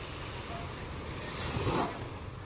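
Sea waves wash onto a beach in a steady broadband rush with wind noise on the microphone, one wave surging louder around the middle before falling back.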